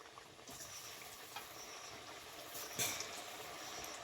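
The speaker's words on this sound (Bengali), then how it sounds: "আবার আমি বাদ বাকিগুলো একইভাবে ভেজে নেব" Potato chops deep fry in hot oil as a continuous quiet sizzle and crackle, fairly close, with a few brief clinks and stirs and no talking.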